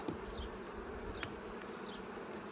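Honeybees buzz continuously around their hive on a farm, a dense steady drone up close with occasional individual bees zipping past.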